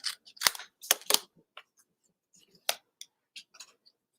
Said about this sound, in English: We can snip this off.